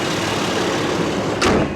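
A 2012 Toyota Tacoma SR5's 4-liter V6 runs with a steady, broad roar and hiss heard close up, with a brief louder surge near the end.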